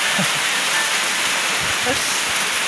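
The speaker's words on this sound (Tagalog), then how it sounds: "Inabutan na talaga kami ng ulan." Rain pours during a mountain hike on Mt. Agkir Agkir, a dense, even hiss filling the whole stretch, with faint voices and small knocks and movements underneath.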